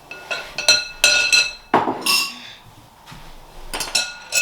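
A spoon or whisk clinks and taps against a bowl while jelly cake mixture is stirred, giving a run of sharp, close, irregular knocks with short pauses between them.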